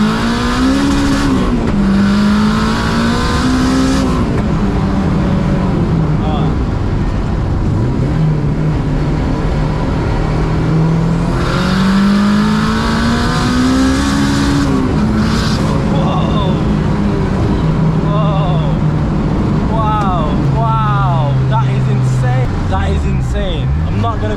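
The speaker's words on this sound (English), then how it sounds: "You feel the VTEC now. When you go, that's VTEC." A Honda Civic fitted with a £20,000 swapped-in VTEC engine revs up and down repeatedly, loud and close, its tone climbing and falling in long sweeps with brief voices at moments.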